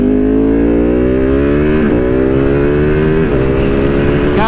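A Ducati Panigale V2 fitted with a Vandemon full exhaust and dB killers revs loudly and steadily close by, its rising and falling engine note carrying two brief dips that sound like pops.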